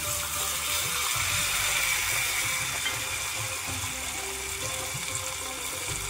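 Half a cup of water poured into a hot tempering of cumin, green chilli pieces and curry leaves for instant besan dhokla, making a steady gushing, bubbling rush that holds at an even level throughout.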